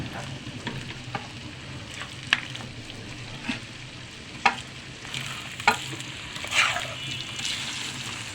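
Mashed boiled olives being stirred in a pan for olive pickle, soft frying sizzle under a string of scraping spoon strokes against the pan at irregular intervals.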